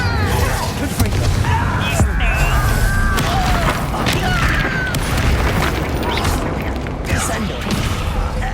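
Spell explosions from Confringo fire spells in Hogwarts Legacy combat: repeated booming blasts and crashes amid dense game music and whooshing effects, with character voices shouting over the steady din.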